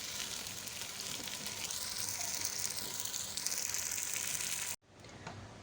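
Arvi (taro root) frying in oil for a masala curry, a soft continuous sizzle with bubbling texture, quiet and close, cutting off abruptly near the end before resuming more faintly.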